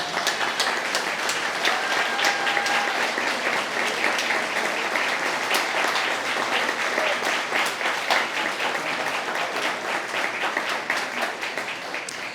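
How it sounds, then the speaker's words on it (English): A crowd at a ribbon-cutting ceremony applauds steadily and loudly for the whole stretch, a dense wash of many hands clapping with no break and no speech over it. "let's give each and every one of them a round of applause"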